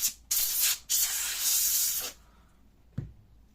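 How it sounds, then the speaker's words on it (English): Compressed air blasting dust out of the cooling system of an Acer Aspire E5-532 laptop: two loud hissing bursts, the second longer, followed by a short faint thump and quiet. "I use compressed air for blowing out everything"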